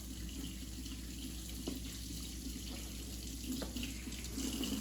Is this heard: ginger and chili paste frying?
no